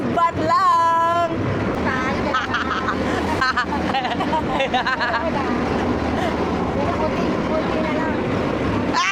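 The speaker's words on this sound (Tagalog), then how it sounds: "Sumakay kami ng bangka." Passenger boat ride on a river in Bangkok: a steady engine and water rumble runs throughout, with people chatting and crowd babble close by over it.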